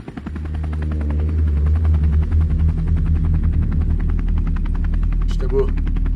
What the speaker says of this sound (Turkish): polis oraya daha hızlı ulaşmak için bir helikopter kullandı